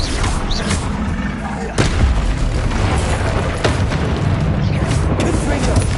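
Explosions from a Harry Potter video game's Bombarda blasting spell: several sharp booming bursts at irregular intervals, the strongest near the middle, over a continuous noisy wash of battle sounds.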